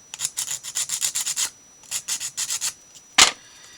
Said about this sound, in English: we'll go ahead and sand this corner down